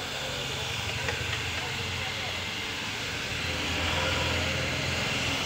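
Onions frying in hot oil for mutton curry give a steady, broad sizzling hiss, fairly close and even throughout, swelling slightly near the end.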